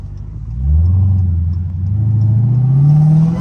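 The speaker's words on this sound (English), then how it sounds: "Y'all hear them tires biting that road?" A Dodge SRT Hellcat accelerates hard on a city street, its tires gripping the road under a deep, rising engine roar that builds steadily and stays close and loud.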